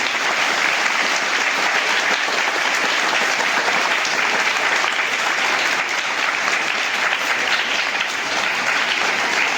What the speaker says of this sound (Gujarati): આપણે જોરદાર તાળીઓથી એમનું સ્વાગત કરીએ.